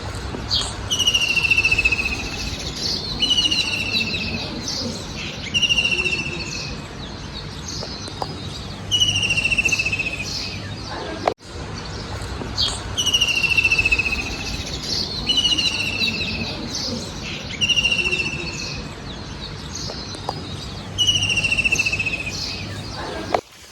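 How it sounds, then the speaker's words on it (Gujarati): Birds chirp and call repeatedly in clear, fairly close bursts on a farm, with a steady chorus of crickets underneath throughout. "પક્ષી હતી"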